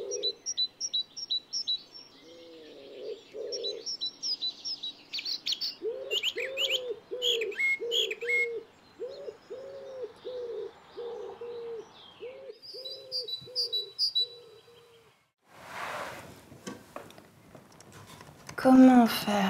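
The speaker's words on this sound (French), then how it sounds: "Comment faire taire les oiseaux? Comment faire fuir les oiseaux?" Small birds chirp and tweet in quick bursts while pigeons or doves coo in a steady repeated rhythm underneath, fairly close; a louder rustling noise cuts in near the end.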